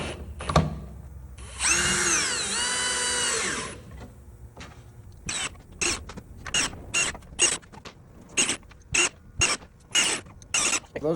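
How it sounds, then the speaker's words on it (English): Power drill driving 1 1/4 inch square drive screws to attach support strips in cabinet assembly: one long whirring run, then a string of short, loud, evenly spaced bursts as screws are driven in quick succession, with no talking. "We're gonna attach our support strips with 1 1/4 square drive screws."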